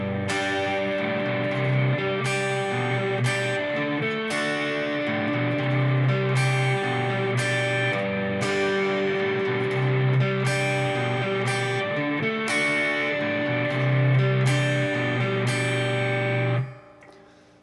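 Distorted electric guitar plays a chorus twice through at full speed, loud, steady chord stabs with brief accents and no talking, ending with a quick fade.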